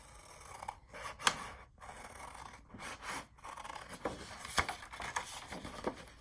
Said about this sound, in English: we're cutting this line right here